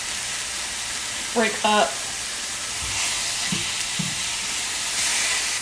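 Garlic and onion frying in a pan, a steady soft sizzling hiss throughout, briefly interrupted by a few short voiced sounds and light thuds.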